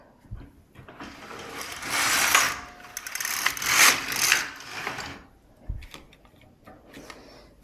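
An LK150 knitting machine carriage works a sweater, making long mechanical swishing and clattering sweeps that rise and fade, followed by a short thump and quieter rattles.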